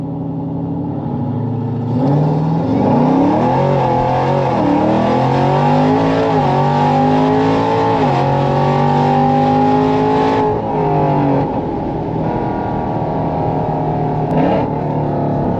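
A modified Dodge Hellcat or Trackhawk in track mode accelerates hard, its supercharged engine note climbing loud and close through several rising pulls with gear changes, then easing off near the end.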